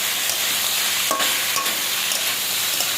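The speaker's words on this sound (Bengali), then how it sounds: "এবার আমি এঁচোড়টা দেবো, সেদ্ধ করা এঁচোড়টা দেবো" Boiled green jackfruit going into a pan and being stirred, giving a steady close sizzling hiss with a couple of brief scraping knocks and no talking.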